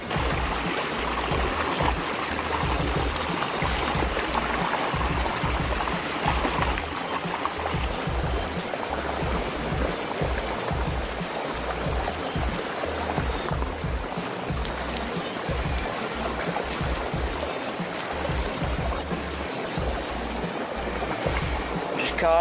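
Steady rushing water from a creek during trout fishing, continuous and fairly loud, filling the whole stretch without any clear speech.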